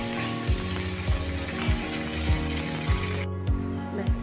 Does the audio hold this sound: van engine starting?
no